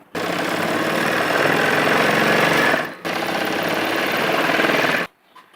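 An electric sewing machine stitches along both side edges of dress fabric, running in a loud, steady rapid rattle in two long bursts separated by a brief pause, then stopping abruptly.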